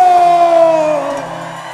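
Crowd at a norteño band's anniversary concert shouting and whooping together, a loud sustained cheer with a held yell that gradually falls in pitch and fades slightly.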